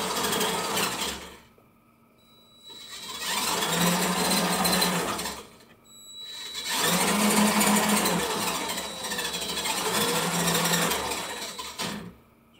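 Small DC motors on an Arduino Nano RC robot whir in two sustained bursts as a joystick drives them, the buzzing drone stopping briefly between runs and then resuming steadily, close and fairly loud.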